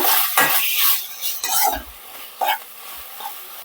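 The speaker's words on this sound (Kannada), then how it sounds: "ಇವಾಗ ಇದನ್ನ ಫ್ರೈ ಮಾಡ್ಕೊಳ್ಳೋಣ" Ginger garlic paste fries in a pan for egg curry, a close, loud crackling sizzle with several stirring scrapes and knocks of a spoon against the pan.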